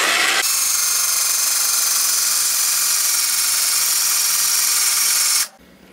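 A drill bit grinds through terrarium glass to make ventilation holes in a snail enclosure, with the bits not freshly sharpened; a loud, steady, high whine holds for several seconds, then cuts off abruptly.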